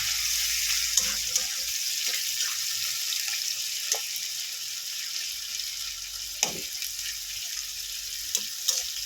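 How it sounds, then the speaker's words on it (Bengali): Onions frying in oil with whole spices such as cardamom and black pepper, a steady soft sizzle with occasional spatula scrapes and taps. "এবারে লাল করে পেঁয়াজটা ভেজে নেব"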